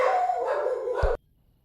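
Excited dogs howl and bark in a continuous, fairly loud burst that cuts off abruptly, with a deeper bark near the end and silence afterward.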